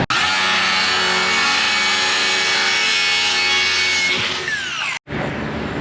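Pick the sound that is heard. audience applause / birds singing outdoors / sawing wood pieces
sawing wood pieces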